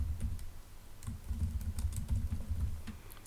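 Fingers tap a computer keyboard in a quick, uneven run of soft clicks while a file name is typed in Windows 10, close and alone for a few seconds.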